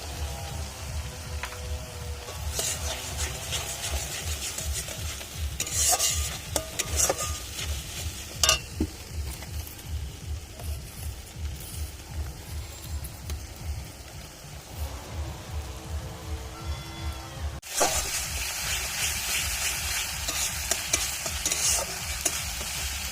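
A fish curry masala with salt and turmeric sautés in a pan, sizzling steadily close by with rhythmic stirring scrapes throughout and a brief break near the end.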